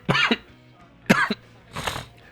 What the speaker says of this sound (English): you're going to hear me cough a lot